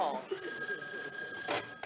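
A telephone rings steadily in a home, a sustained bell tone running under nearby talk and movement.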